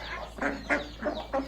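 Backyard chickens cluck close by in four short, evenly spaced bursts against a low steady hum, with no talking.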